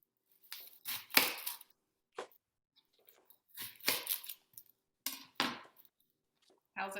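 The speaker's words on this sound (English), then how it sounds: "Just kind of chop the romaine lettuce and the cucumber" A knife chops romaine lettuce on a board in several short bursts of crisp cuts, separated by quiet gaps.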